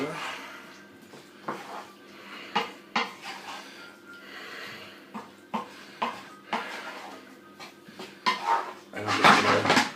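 Curry paste for chicken tikka masala gets stirred in a pan, with scattered scraping and clinking utensil knocks against the metal and a louder clatter near the end, while a voice talks over it.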